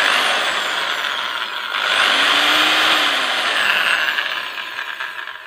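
A freshly repaired electric drill machine switched on and running, a loud, close, high whining motor drone that holds steady with a slight rise in pitch before tapering at the end, with no talk.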